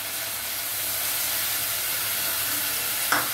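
Potatoes with salt and turmeric being stirred in a hot pan, a continuous loud sizzle and hiss with a brief scrape of the spoon near the end, no voices.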